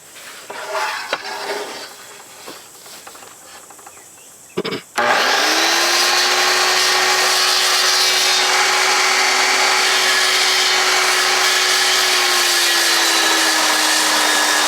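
A power saw blade cuts through a timber beam for a Japanese daimochi tsugi scarf joint, starting abruptly after a few quiet seconds and then running as a loud, steady, sustained whine for the rest of the clip.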